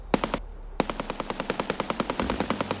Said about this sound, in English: Gunshots rang out from what I could only assume was behind the dorms, not inside.